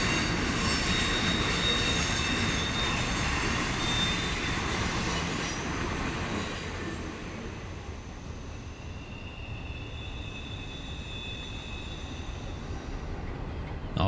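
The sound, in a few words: Norfolk Southern intermodal freight train passing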